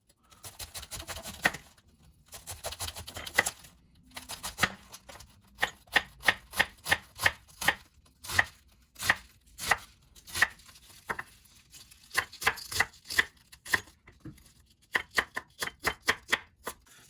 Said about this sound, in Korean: 심지를 제거하시고 양배추를 얇게 채 썰어주세요